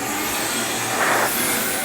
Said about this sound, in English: We're going to start off by vacuuming with our Cox vacuum hose reel. It's powered by the rigid portable vac.